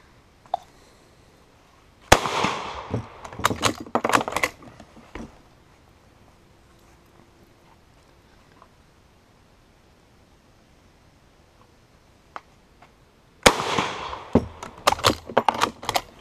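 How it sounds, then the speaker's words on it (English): Two volleys of sharp, very loud rifle shots from a French Lebel Model 1886/93 firing 8x50R rounds, each burst a cluster of rapid cracks with echo, separated by a long quiet stretch with faint background sounds. "That is a loud rifle. It's very loud."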